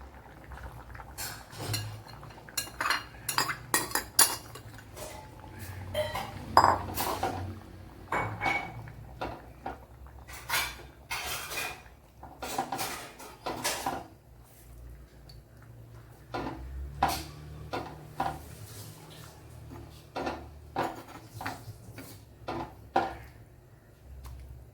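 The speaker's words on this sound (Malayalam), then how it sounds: "അതിലേക്ക് ഇനി ഈ നമ്മള് ഉടച്ച് വെച്ച് കടല ചേർത്ത് കൊടുക്കാം" Mashed chickpeas go into a simmering Kerala kadala curry pot and are stirred, giving irregular metallic clinks and scrapes of a spoon against the pot over a soft bubbling background, close and fairly quiet, with no talk.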